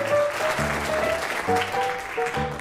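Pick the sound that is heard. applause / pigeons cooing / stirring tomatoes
applause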